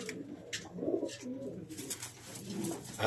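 An old racing pigeon coos softly a few times at close range, over quiet rustling and a low background hum.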